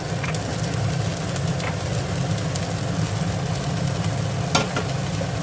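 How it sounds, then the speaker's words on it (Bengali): Peas frying with spices in a pan for a jackfruit and potato curry, a steady dense sizzle with occasional stirring scrapes and a brief clink near the end. "মটরশুঁটিটা দিয়ে আমি একটু ভেজে নেব মশলার সঙ্গে"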